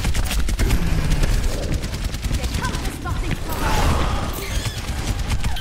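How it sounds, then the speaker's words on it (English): Reaper's twin shotguns fire in the Overwatch hero shooter, a rapid run of blasts stacked over dense game noise and effects, loud and continuous through the fight. "it's impossible for Reaper to counter, because I have shotguns"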